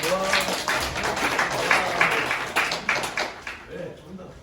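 A church congregation at a high school service in Daegu claps in a brisk, uneven patter that fades toward the end, with a voice briefly audible.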